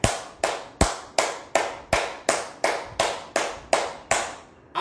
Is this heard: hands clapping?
yes